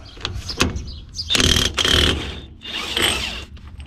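A standard-thread nut is spun off the rear wheel of a 1952 Willys Overland 4x4 truck, giving a close series of ratcheting, whirring bursts in short repeated spells with brief pauses between them.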